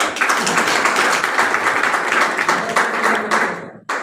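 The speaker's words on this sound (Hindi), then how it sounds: "जोरदार तालियां" An audience gives loud applause at a reward ceremony, producing dense, continuous clapping that holds strong throughout and cuts off abruptly just before the end, then briefly resumes.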